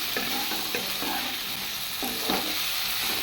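Eggplant fries in hot oil in a pan with a steady, loud sizzle, interrupted by a few scraping stirs of a spatula, close by and with no voices.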